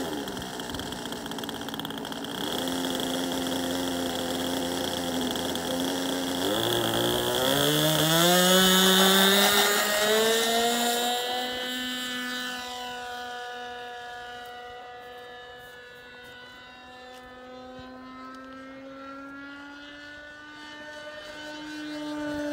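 A Grasshopper model airplane engine runs loud and high-pitched at takeoff, its whine climbing sharply in pitch as it throttles up, then easing into a steady, slightly falling drone as the plane pulls away.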